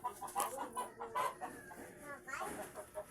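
Caged chicken clucking in short, repeated bursts at moderate distance, with faint background sounds underneath.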